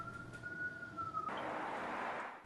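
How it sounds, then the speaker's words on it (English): A police siren wails steadily in the background, a faint sustained tone that gives way to a broad noisy rush partway through. "A police siren can clearly be heard in the background"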